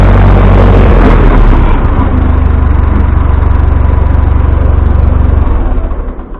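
An old Ford tractor engine idles loudly nearby with a steady chugging rumble that fades and cuts off at the end.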